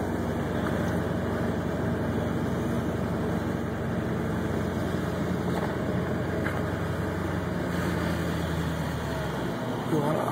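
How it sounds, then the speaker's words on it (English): A vehicle engine idles quietly at low speed, a steady low hum that runs evenly throughout, with someone talking over it. "Idle up nice and quiet."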